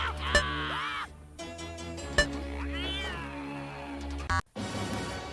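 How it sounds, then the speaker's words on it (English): A cartoon cat meows and yowls in the Dragon's Lair arcade game, with several drawn-out, pitch-bending cries over a steady tonal game score, broken by brief sharp hits and a short gap near the end. "Or get devoured by a cat."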